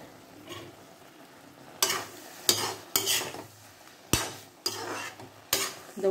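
Mustard seeds, urad dal, chana dal and cumin crackle and fry in hot oil in a small tempering ladle for a tomato pickle, with a steady sizzle broken by six sharp bursts of spattering at irregular intervals, close and alone.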